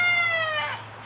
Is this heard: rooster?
yes